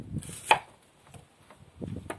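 A knife chops an onion into long strips on a cutting board in a few quiet, uneven strokes, one sharper knock standing out, with short pauses between cuts.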